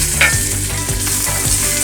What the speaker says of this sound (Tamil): அந்த காஞ்ச மிளகாய் இதில் சேர்த்துட்டு